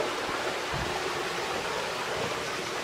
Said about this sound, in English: You can probably hear the water running.